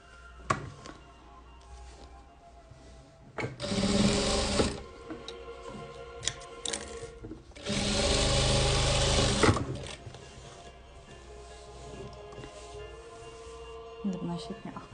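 A sewing machine stitches velour quilt patchwork pieces in two loud mechanical bursts of rapid whirring, separated by quieter handling clicks and rustles nearby.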